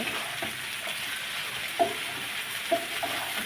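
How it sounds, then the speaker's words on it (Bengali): Okra and onions frying in a pan give a steady, bright sizzle, with a few soft scrapes and knocks as they are stirred, and no voices. "সুন্দর করে ঢ্যাঁড়সগুলো মিশিয়ে দেব"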